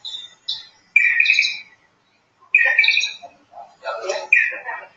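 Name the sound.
clay-colored sparrow calling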